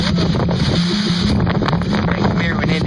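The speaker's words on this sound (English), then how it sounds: "It's getting windy." Strong wind buffets the microphone in a steady, loud roar, with gusty rumbling and no clear voices.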